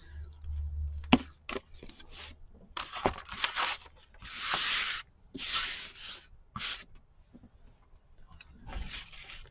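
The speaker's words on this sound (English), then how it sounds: "Probably would have been smarter to use a bigger pair of scissors." Cutting through paper or thin card with a small pair of scissors while making a scrapbook cover, close up, in uneven bursts of snipping and tearing with pauses between strokes.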